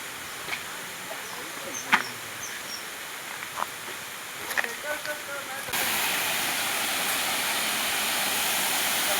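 Ojhar waterfall in the Konkan, low on water in a dry spell, with scattered clicks and rustles at first, then a steady broadband rush of falling water that fills the last few seconds.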